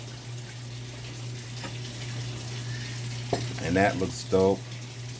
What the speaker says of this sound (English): My wife is washing something in the washing machine.